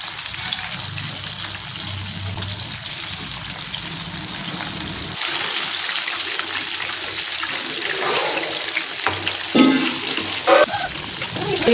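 KFC-style chicken pieces frying in hot oil at home, a steady bright hiss and crackle running throughout, with a few sharper bursts of sputtering near the end.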